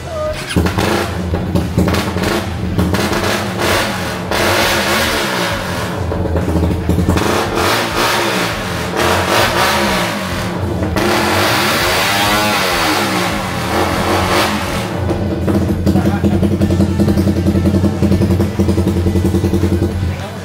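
A motorcycle fitted with a full aftermarket setup starts and idles loudly, then revs in repeated rising and falling swells. The engine note stays close and harsh throughout the stretch, with a rattly edge.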